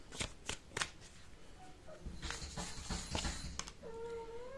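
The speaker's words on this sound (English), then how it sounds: "Let's get two more cards." Tarot cards are shuffled and drawn, giving a few quick riffling bursts followed by softer sliding and rustling of card stock, close and quiet, with no talking.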